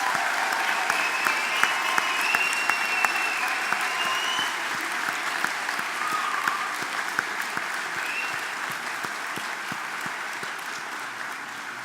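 Sustained applause from a commencement audience honoring engineering graduates, a steady dense wash of clapping held at moderate level from start to finish in a large hall.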